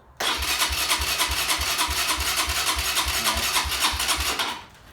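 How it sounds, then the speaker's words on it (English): A motorbike engine is cold-started without choke or throttle. It makes a steady, loud, close churning run with regular low thumps for several seconds, then cuts off near the end, with no talk. "No choke. No throttle, cold start, and here we go."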